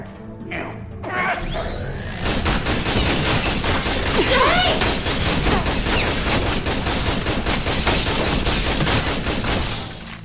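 Guards' gunfire in Tales from the Borderlands rattles as a dense, continuous barrage of rapid shots and crashes. The barrage bursts in after a brief quieter lead-in and stays loud until near the end.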